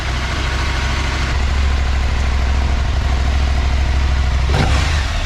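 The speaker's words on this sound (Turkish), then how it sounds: "Gaz verdikçe kükrüyor." A steady, loud Husqvarna Norden 901 motorcycle engine idles on its first run with a deep, rumbling low throb throughout, briefly rising near the end.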